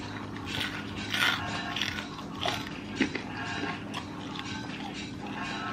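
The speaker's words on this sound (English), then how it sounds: "Hear that crunch?" Deep-fried lobster tail crunched in close bites, several crisp crackles in irregular rhythm over quiet background, no talk.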